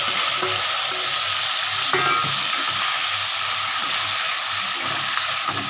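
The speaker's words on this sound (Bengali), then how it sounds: "মাছটা একটু হালকা ভেজে নেব পুরোটাই দিয়ে দিচ্ছি" Small prawns frying in oil in a pan, a steady loud sizzle with bubbling hiss throughout and no talk.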